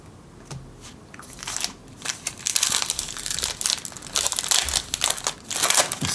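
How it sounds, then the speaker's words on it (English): A pile of Magic: The Gathering land cards tips over on a tabletop, a run of close, dry crinkling and papery slapping bursts that swell and fade over several seconds with no talk. "See, our land pile is starting to fall over."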